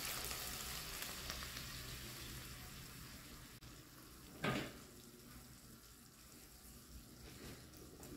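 Beans are dropped into ground meat frying in a pan, setting off a brief louder splash and sizzle midway through a steady, fairly quiet frying hiss.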